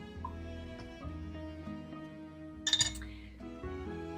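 Glass jar of home-canned tomatoes opened with a homemade jar opener, a single brief sharp clink and pop partway through against an otherwise quiet, low background.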